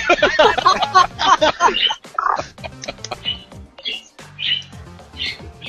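A pet bird chirps right beside the microphone in short, bright bursts, loud and close, first overlapping with people talking and then continuing more sparsely on its own.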